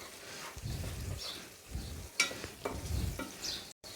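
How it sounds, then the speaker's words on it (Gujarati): Yogurt is stirred quickly into a frying yam (suran) curry, with rhythmic scraping stir strokes over a soft, continuous sizzle. "એક વાટકી આપણે એમાં દહીં નાખશું દહીં નાખ્યા પછી તમારે ફટાફટ ચલાવી લેવાનું"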